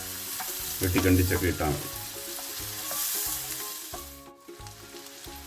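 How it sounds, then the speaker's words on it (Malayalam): Chopped onions sauté in a pan with a continuous close sizzle and stirring scrapes, louder early on, while a person speaks briefly over the cooking. "അപ്പോൾ നമ്മുടെ ഉള്ളി ഒന്ന് വഴന്ന് വന്നിട്ടുണ്ട്"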